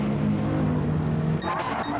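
Race car engines drone loudly and steadily in a racing video game as one car bump drafts another down the main straight at Suzuka, the tone shifting abruptly near the end as the cars close up.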